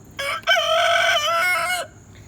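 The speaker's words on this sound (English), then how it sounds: "That's Laddie Roo, the head rooster." Laddie Roo, the head rooster, crows once nearby, loud and clear, a drawn-out cock-a-doodle-doo lasting well over a second in an outdoor yard.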